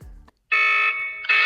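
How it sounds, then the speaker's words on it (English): A Guardfather DIY home security system's panic alarm sounds: a loud, close, piercing electronic tone in steady bursts with a brief gap, preceded by a short thump as the button is pressed. "Triggers a panic alarm."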